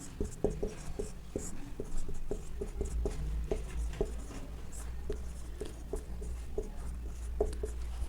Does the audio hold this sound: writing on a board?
yes